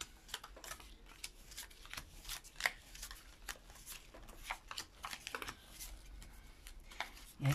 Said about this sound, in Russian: Раскладываем эти карты.